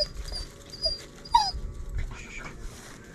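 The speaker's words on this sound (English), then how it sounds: "It's a demanding dog." A dog at a firewood-clearing site makes high, thin whimpers and yips, a few short calls close by over low background rumble.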